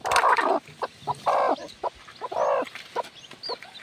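A mother hen and her chicks on a farm cluck in short, repeated bursts, near and fairly loud, with small high peeps mixed between the louder calls.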